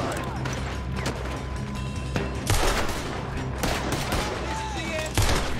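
Gunfight in Red Dead Redemption 2 with repeated loud gunshots cracking in bursts over a busy background, some sharp impacts, and players talking over the action.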